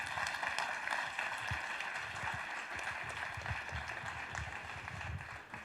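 Audience at a talk on artificial intelligence, NLP and chatbots clapping for the speakers, a steady fairly faint wash of many hands that keeps going without a break.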